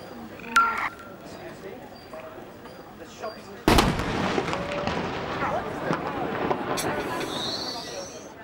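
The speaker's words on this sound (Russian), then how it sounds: "большие пушечные выстрелы из маленького-прималенького княжества" Cannon salute shots fired in Monaco: a sharp, loud boom at about 3.7 seconds followed by a long rumbling echo, with a smaller report earlier and a faint one near the start, over quiet outdoor ambience.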